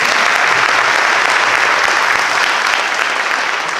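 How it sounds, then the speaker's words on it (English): A gymnasium crowd gives a round of applause at a senior awards ceremony, a loud, even wash of clapping sustained without pause for the full stretch. "Round of applause"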